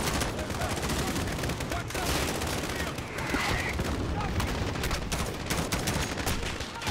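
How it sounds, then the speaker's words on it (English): Explosions and dense gunfire in the Modern Warfare embassy level, a loud, unbroken barrage of shots and blasts filling the whole stretch, with a voice speaking faintly beneath. "So much explosion."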